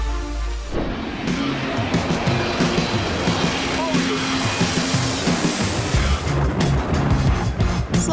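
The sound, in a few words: low-flying plane passing overhead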